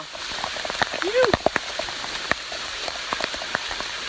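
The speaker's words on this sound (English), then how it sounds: "this is the absolute downpour that Buzz and I are walking in right now" Heavy downpour on the Appalachian Trail, dense steady rain hissing close by with sharp individual drops hitting a nearby surface, plus a brief tonal chirp early on.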